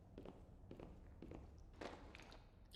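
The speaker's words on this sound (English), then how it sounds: "You can hear footsteps out of the corner of your ear." Footsteps in the indie horror game The Warning Watch, a handful of quiet steps spaced irregularly across a dim ambient bed, faint and somewhat distant.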